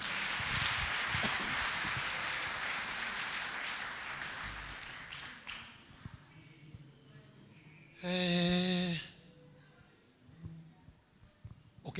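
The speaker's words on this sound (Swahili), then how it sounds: "Piga makofi mazuri." A church congregation at a Sunday service claps together in dense, steady applause that fades after about five seconds, followed by quieter room sound.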